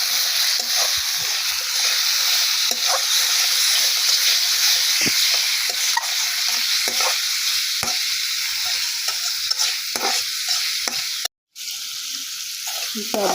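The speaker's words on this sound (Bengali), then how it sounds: "এখন আমি ভাজা কষিয়ে নেব" Garlic, onion and spices frying in oil while being stirred, a loud continuous close sizzle with scraping clicks from the stirring and a brief drop out near the end.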